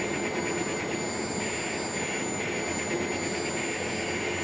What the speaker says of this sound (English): vacuum motors